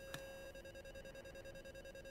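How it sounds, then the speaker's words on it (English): A steady electronic tone with rapid, evenly pulsed beeping layered over it, the stall warning in the DCS A-10C II flight simulator, sounding continuously with no voices. "you want to hear that rapid beeping"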